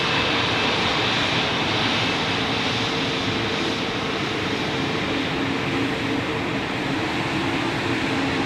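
Swiss Airbus A220-300 jet airliner taxiing at Zurich airport, a loud, continuous broadband engine roar and whine that holds steady throughout, heard from nearby.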